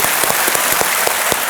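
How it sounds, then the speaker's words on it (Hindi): A studio audience on the Hindi quiz show KBC gives a steady, dense round of applause, with individual claps crowding into a continuous roar close to the microphone. "एक बार फिर तालियां बज जाएं दिव्या जी के लिए"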